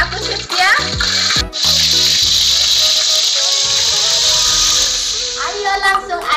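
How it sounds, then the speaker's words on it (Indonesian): Salted fish fries in hot oil with a dense, steady sizzle that lasts several seconds, framed by brief clatter and voices at the start and end. "Dilanjut kita goreng ikan asinnya ya bun."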